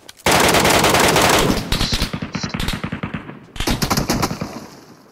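Rapid automatic gunfire in the Metro Royale mode of PUBG Mobile: a loud sustained burst of fast shots, a short pause, then a second shorter volley, with no talk over it.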